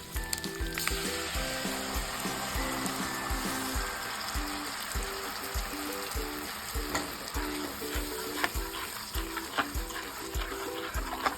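Mustard paste added to a pan of fried onion, ginger and garlic for a Bengali prawn malai curry, giving a steady loud sizzle with stirring scrapes throughout, over faint background music and no talk.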